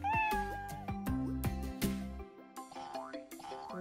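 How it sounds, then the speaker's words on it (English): A cat meows repeatedly in a series of clear, close, loud calls, some drawn out like a caterwaul, heard alone without voices. "Cat."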